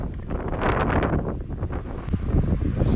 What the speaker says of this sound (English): Showing you Washington can have some wind too.